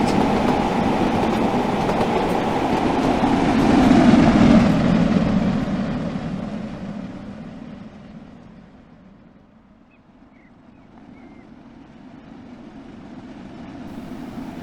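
A steam train in the video game Train Sim World, on the Manchester to Liverpool line, rumbles past with rolling wheel clatter, swelling louder midway then fading to a quieter rumble before building again.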